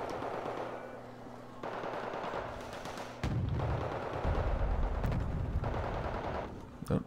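Tank cannon fire in a wargame video game, Leopard 2 and M1 Abrams trading shots, with a loud heavy blast midway and another sharp crack near the end over continuous game rumble.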